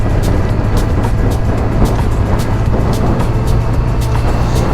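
A Honda CBR1000RR motorcycle cruising with a steady engine drone and strong wind rush, recorded close from the rider's position, with faint regular ticks over the constant roar.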